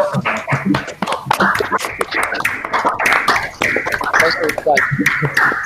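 Close-up, irregular hand claps from a few people mark the end of an online thesis defense, sounding over continuous talking voices.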